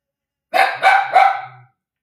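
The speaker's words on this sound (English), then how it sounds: "Now he's barking" A dog barks three times in quick succession, close and clear, followed by a short low whine.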